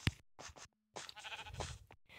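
Minecraft sheep give several soft, short bleats separated by brief pauses, with quiet game sounds and no talk.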